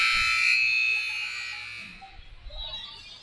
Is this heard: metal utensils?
no